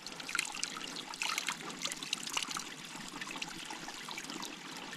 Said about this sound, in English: This is the water filling station. You put it under this little mossy hole